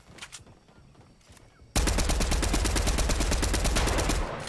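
Rapid automatic gunfire in Fortnite during a competitive solos match, a loud sustained spray that bursts in after quieter game ambience and runs continuously for over two seconds before cutting back.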